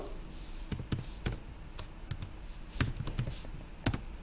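Keys clatter on a computer keyboard as a username is typed, in irregular bursts of sharp taps with short pauses, close and fairly quiet, with no talking.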